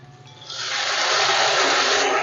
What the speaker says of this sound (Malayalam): രണ്ട് ടേബിൾ സ്പൂൺ വെള്ളം ഒഴിച്ച് കൊടുക്കാം കേട്ടോ.